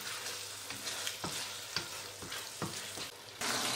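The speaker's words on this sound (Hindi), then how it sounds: "कीमा जो है अच्छी तरह भून जाए। इस तरह इसको मिक्स कर देंगे मसाले में।" Minced meat (keema) frying in spices in a pan, with a quiet continuous sizzle broken by regular scraping stirs about every half second, and no talking.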